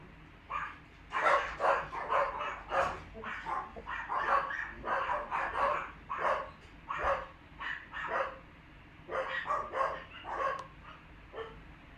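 Several dogs barking in repeated bursts, loud and close, with yips mixed in and no talking over them.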